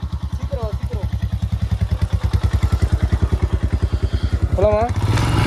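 A Royal Enfield Himalayan motorcycle idles up close with a loud, even, thumping beat, then revs harder near the end; a couple of brief voices sound over the engine.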